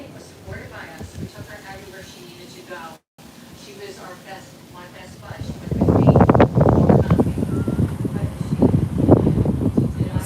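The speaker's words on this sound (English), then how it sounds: "It's a little bit windy out here." Wind gusts roar across the microphone outdoors by the beach and Intracoastal Waterway, growing louder and buffeting in the second half, with a person talking underneath.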